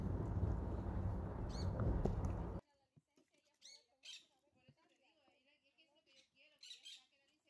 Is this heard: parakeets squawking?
yes